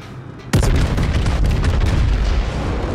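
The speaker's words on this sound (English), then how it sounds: "Fire the guns!" Warship guns in the World of Warships naval game fire with one sudden heavy boom, followed by a loud, sustained rumbling roar of continued cannon blasts and battle noise.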